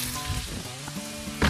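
Shrimp and garlic sizzle in olive oil in a pan, a steady crackling hiss heard alone across the brief moment, with a louder spatter at the very end.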